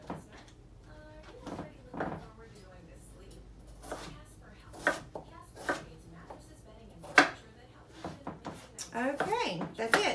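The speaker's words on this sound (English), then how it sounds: "And I'm just going to cut these into sticks." A knife cutting jicama into sticks on a cutting board, irregular soft thunks and taps spread over several seconds, with a person talking quietly throughout and a faint room hum.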